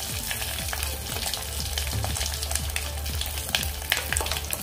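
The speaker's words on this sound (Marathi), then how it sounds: "यामध्येच मी आता कढीपत्त्याची पानं घालते। गॅसची फ्लेम लो केलेला आहे। यामध्ये थोडंसं हिंग घालूया" Cumin seeds, curry leaves and asafoetida tempering in hot oil on a low flame, a steady close sizzle with scattered sharp pops and crackles, no talk.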